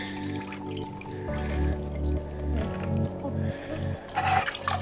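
Water is poured and splashed in a bucket to wash potatoes for homemade potato chips, a close, uneven gurgling and sloshing that swells toward the end.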